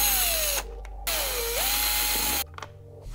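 A cordless power driver spins out T30 fairing bolts on a 2020 Husqvarna 701 SM motorcycle, giving close, loud whirring bursts that rise and dip in pitch, separated by short pauses and small clicks.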